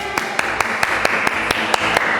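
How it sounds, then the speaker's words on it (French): Hands clap in a slow steady rhythm at the close of a yoga and barre fitness class, about ten evenly spaced sharp claps over a soft room background. "pouvez vous applaudir"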